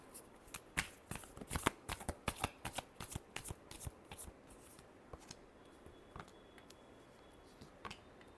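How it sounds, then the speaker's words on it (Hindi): Tarot cards being shuffled by hand, a run of quick papery riffles and flicks in dense bursts that thin out into a few sparse snaps, close and fairly quiet with no talk. "last shuffle"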